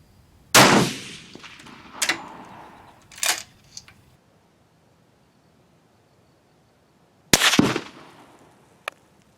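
A Steyr rifle fires Hornady match rounds at an outdoor range. Sharp, loud reports sound near the start and again about seven seconds later, with smaller cracks and clicks between them and a quiet pause in the middle.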